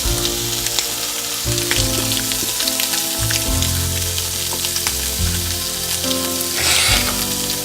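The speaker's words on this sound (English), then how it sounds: "Well, now you can see the sizzle." Steady, loud sizzling of ham frying in a pan, a dense crackle with scattered pops throughout, close by and uninterrupted.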